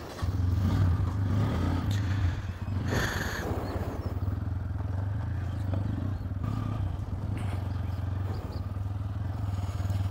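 A motorcycle sets off on a 400 km ride home, its engine rumbling steadily close by with brief revving and clatter early on, then settling into an even drone.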